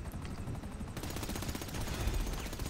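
Rapid gunfire in GTA 5 as a security camera and evidence on the ground are shot out, heard as a quick, fairly faint burst of repeated shots.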